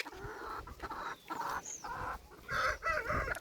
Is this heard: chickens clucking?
yes